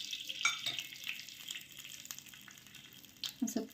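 Mustard seeds spatter and crackle in a few spoons of hot oil as a corn upma tempering begins, a steady sizzle with sharper pops near the start and end.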